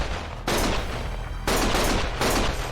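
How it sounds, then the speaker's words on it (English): Gunfire in the Lost Judgment video game, three loud close bursts of rapid shots, each a dense rattling volley lasting about half a second to a second, with brief gaps between them. "Stop shooting!"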